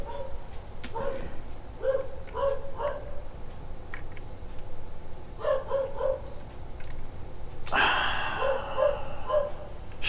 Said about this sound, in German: Scheiß Hund.